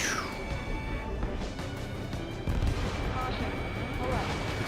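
Dense, continuous rumbling gunfire and missile blasts in the aerial combat game Ace Combat 7, steady and loud throughout with a heavier boom midway, under faint in-game radio chatter.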